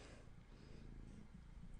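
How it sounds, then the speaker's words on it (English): A pet cat purrs close by in a quiet room, a soft, continuous low rumble with an even pulsing texture and no talk. "You can probably hear him purring after a while."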